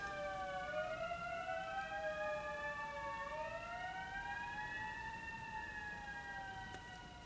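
Several emergency sirens wail together at a distance, their pitches rising and falling in overlapping sweeps, fairly faint and steady throughout.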